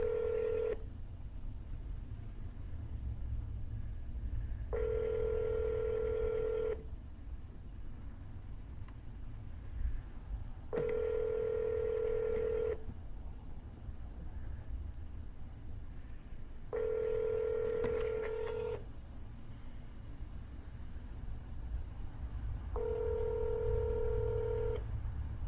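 Touch-tone dialing beeps from a real estate cold call, sounding as a steady series of clear tone bursts separated by pauses over a low background hiss, with no talking.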